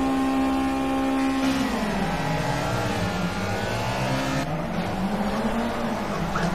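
A Ford Escort Mk1 RS1600 race car in the rain in Project CARS roars loudly and steadily, its engine pitch dipping and rising through gear changes, with tire noise throughout.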